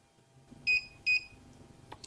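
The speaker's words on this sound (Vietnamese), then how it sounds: "sau khi máy kêu tít tít là chúng ta mở nắp máy lên" Two short, bright electronic beeps come in quick succession from an HTG P290B vacuum sealer as it finishes sealing, clear and close over quiet background noise.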